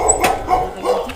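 A dog barks a few quick times nearby, sharp and fairly loud, with no one talking.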